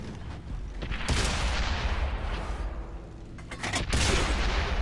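Tank cannon fire and explosions in World of Tanks, heavy booming blasts over a rumbling battle din, loud and dense with a couple of sharp impacts.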